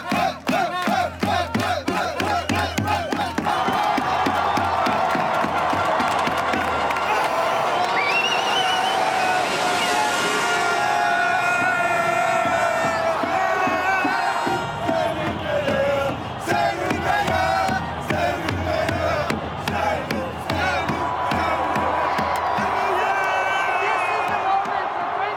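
Dense crowd of thousands roaring and cheering in 30-degree heat at a world title event, a sustained loud wall of voices with chants and whoops rising throughout.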